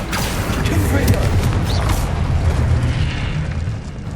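A Confringo blasting spell detonating in Hogwarts Legacy, a booming burst with crackling debris that sustains loudly for several seconds before slowly easing, with no speech over it.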